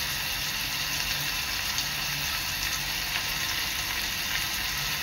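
Chopped onion and curry leaves fry in a pan with a dense, even, continuous sizzle that stays close and steady throughout, with no voices.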